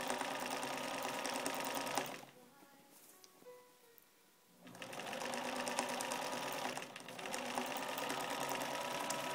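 A sewing machine stitches seams on a pioneer bonnet in steady buzzing runs. A louder burst opens the clip, it goes quiet for a couple of seconds, then a long continuous run follows, close and clear with no talk.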